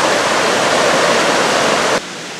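A mountain stream in the Black Forest rushes down a rocky granite valley, a loud, steady broadband wash of flowing water that drops off abruptly near the end.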